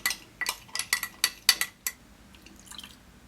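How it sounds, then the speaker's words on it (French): A spoon stirring a gelatin and water mixture in a bowl, with a quick series of about eight sharp clinks against the bowl's side, then softer faint scraping, close and with no voices. "Hop, donc on mélange."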